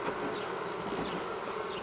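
Honeybees buzz at an open hive during a frame inspection, a continuous soft droning hum close by, steady throughout.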